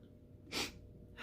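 One short, breathy burst, like a stifled sneeze, close and soft against a quiet background.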